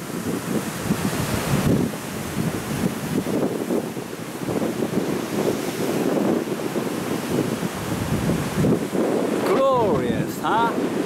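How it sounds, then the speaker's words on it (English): Sea water surging and gushing through rocky coastal caves, waves churning like boiling milk below; a steady, loud roar of surf and wind buffeting the microphone throughout, with brief bird cries near the end. "And these caves down there where the water's gushing through."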